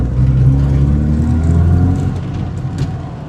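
A 1988 Volvo 240 car driving on a quick spin, its engine running steadily up close with a rising tone as it revs, loud and continuous throughout.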